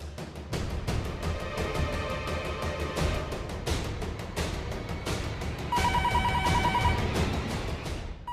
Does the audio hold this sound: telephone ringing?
yes